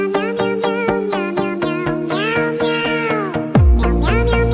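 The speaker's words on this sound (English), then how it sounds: "This pair of cats have grown up together, but they cannot stop arguing" Two cats meow back and forth in a sustained, argumentative exchange of loud, close, drawn-out yowls with overlapping calls, ending in a sudden louder burst.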